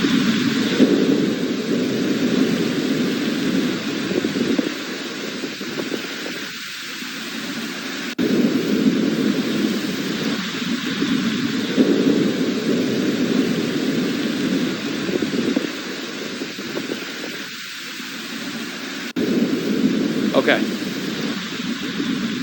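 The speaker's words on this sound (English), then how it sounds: "you could actually hear the audible roar with those thunderstorms" Loud roar of a severe thunderstorm during May 2024 storms, a sustained broad rumble with surging swells throughout, heard alongside voices that come and go.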